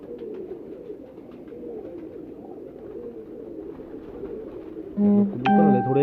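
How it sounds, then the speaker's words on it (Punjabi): Pigeons in a loft give a low, throaty cooing over steady background murmur, with louder, nearer coos breaking in during the final second. "ਅੱਛੇ ਲੈਸ ਹੋਏ ਨੇ ਕਬੂਤਰ ਮਾਸ਼ਾਅੱਲਾ।"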